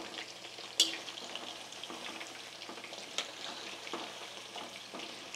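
Garlic kebabs frying in a pan give a quiet, even sizzle, with a sharp clink as one is flipped near the start and a softer knock a little later.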